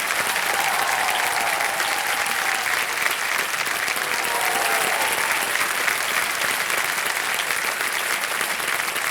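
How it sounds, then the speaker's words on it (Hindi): Studio audience on the Kaun Banega Crorepati game show set clapping continuously, a dense, even wash of applause throughout with no voices standing out. "ताली बजते रहे इनके लिए।"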